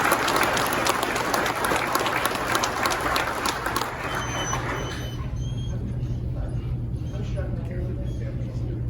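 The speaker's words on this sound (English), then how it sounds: "A round of applause for Detective Castillo." An audience applauding at the 2021 Kenosha County Sheriff's Department promotion and awards ceremony, dense clapping for about five seconds that then thins and fades into room noise.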